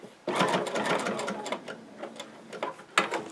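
A sewing machine runs in steady stitching bursts as it double-stitches a folded strap down onto a market tote bag, the motor whirring close and loud with brief pauses between runs.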